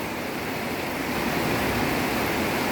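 Steady, dense heavy rain pours down at night in an unbroken hiss, fairly loud and close, with no voices.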